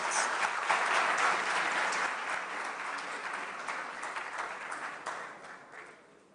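An audience at a school quiz grand finale applauds Presec Legon, a full, even wash of clapping that starts strong and gradually fades out toward the end.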